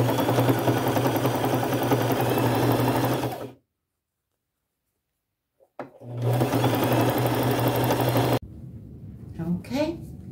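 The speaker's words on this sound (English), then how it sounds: "And I am just going to sew across the bottom." Sewing machine stitching across the bottom of a bag made from a T-shirt, a steady loud mechanical whir running in two bursts separated by a few seconds of silence, followed by faint handling sounds.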